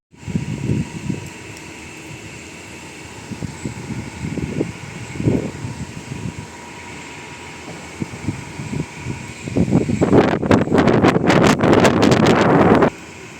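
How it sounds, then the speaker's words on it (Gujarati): Strong, gusty wind blowing before a storm under a clouding sky after a hot day, heard as a steady low rumbling buffet on the microphone that swells into loud, harsh gusts near the end. "એકદમ તેજ હવા ચાલવા માંડી છે"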